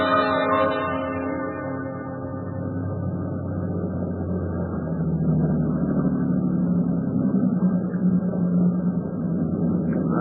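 Ship engines driven full ahead in a wartime radio drama, a steady deep rumbling drone with a churning motor-like roar that swells slightly and runs continuously, alone without talk.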